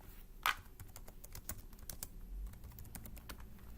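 Quick keystrokes on a computer keyboard, a loud tap near the start followed by a steady run of lighter clicks over low room hum, with no talking.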